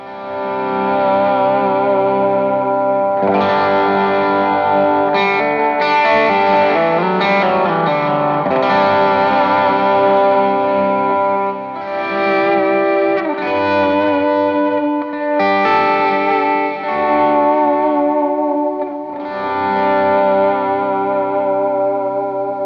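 A sustained electric guitar lead through stacked overdrive pedals, with thick, gritty overdrive, notes ringing and bending continuously with a saturated, slightly chorused tone.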